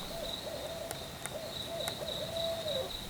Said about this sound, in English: Ooh, nice owl sound effect.